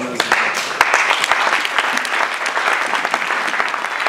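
A church congregation breaks into loud, dense applause during a worship service, with steady clapping throughout and no talking.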